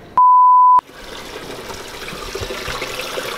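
A sharp electronic beep sounds first, then liquid fertilizer made with fish emulsion trickles and gushes steadily through a strainer at close range, with no talk.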